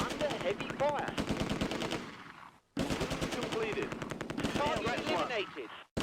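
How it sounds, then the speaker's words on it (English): Bren light machine gun and a Sherman tank firing on an MG42 in the Close Combat World War II strategy game: dense, rapid bursts of automatic gunfire, loud and close, with a brief pause midway and a short gap near the end. "the Bren from 1st Platoon open up on an MG42 that has infiltrated the company position"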